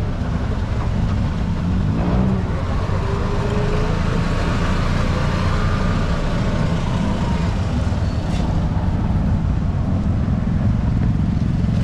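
A Philippine tricycle, a motorcycle fitted out with three wheels, rumbles along the street with a continuous, close engine drone and road noise that holds steady throughout.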